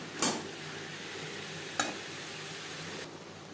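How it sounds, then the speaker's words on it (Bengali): Diced brinjal fries in oil while a spoon stirs it, giving a soft continuous sizzle with two distinct scraping strokes against the pan, quiet and close. "তেলের সাথে বেগুন বেশ ভালো করে মিক্স করে দেবো।"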